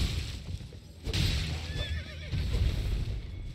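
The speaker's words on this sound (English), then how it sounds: "I should get on my horse." A horse in the video game Elden Ring whinnies loudly and close, a wavering neigh over soft hoof clip-clop and game ambience.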